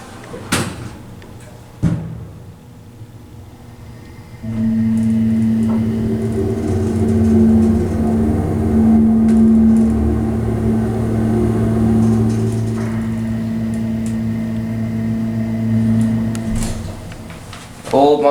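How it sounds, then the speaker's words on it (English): An old Montgomery hydraulic elevator motor in a parking garage in Sacramento, California starts with a thump and runs with a steady loud hum and drone for about thirteen seconds, then stops, with clunks before and after. "Listen to this motor"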